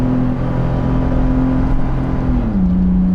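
A Toyota 4Runner with a TRD exhaust held at full throttle while towing, giving a loud, steady engine drone with a sustained whir whose pitch holds, then drops slightly near the end.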